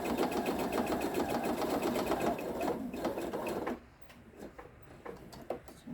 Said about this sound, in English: stitching around the edge to keep it together while you're working with it